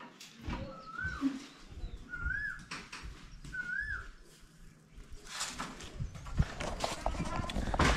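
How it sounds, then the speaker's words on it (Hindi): Birds chirp and flutter nearby while being scattered grains outdoors in a hill village, with soft thuds and footsteps, short whistling calls, and people talking throughout. "तो आज मैंने चिड़ियाओं को खाना डाल रहा हूँ बहुत दिनों बाद"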